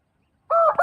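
A rooster during swimming training lets out a single short, nasal honk-like call that breaks abruptly out of silence, close and fairly loud.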